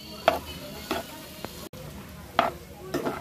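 A spoon works through prawn pulao masala and rice in a pan, giving a few sharp scrapes and knocks spaced about a second apart over a low kitchen background.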